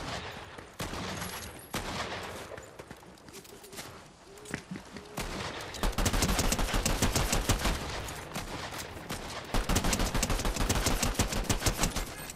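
Pistol and other gunfire crackles in a Fortnite match, scattered shots early giving way to dense, rapid bursts of firing in the second half, with faint player voices underneath.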